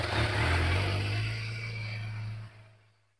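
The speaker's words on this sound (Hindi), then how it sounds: "इसमें एग्जॉस्ट नहीं है, एग्जॉस्ट नहीं लगाया हुआ इसने, ये अभी बाइक रिसेंटली ली है" A recently bought motorcycle, fitted with no aftermarket exhaust, idles and revs with a steady low engine drone close by, fairly loud before dropping away and cutting off near the end.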